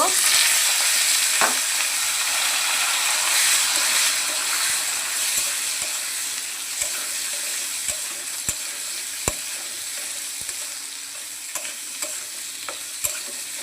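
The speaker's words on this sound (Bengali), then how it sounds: "এখন আলু আর পটলটাও ভেজে নেব।" Potato and pointed gourd fry in oil in a wok with a loud, dense, continuous sizzle that eases slightly over time, punctuated by sharp clicks of a spatula; no talking.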